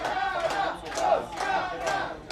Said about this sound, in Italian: la tifoseria continua a incitare le sue ragazze per poterle vedere trionfare